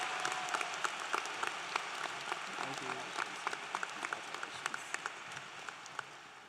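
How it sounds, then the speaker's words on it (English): A high school graduation crowd applauds steadily throughout, dense clapping with some sharper individual claps standing out near the front. "Let's give a round of applause for our salutatorian, Shreyas."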